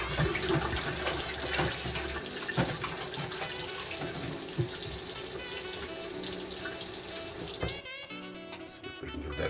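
Tap water runs steadily into a sink while dishes are washed, a continuous close splashing rush with occasional clinks, shifting to a thinner trickle near the end.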